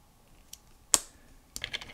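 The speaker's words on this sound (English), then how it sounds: "I'll get this little plastic bag from over here and open it." A small plastic bag is handled and opened, giving a sharp crinkly snap followed by a few light rustling clicks, close and quiet with no voices.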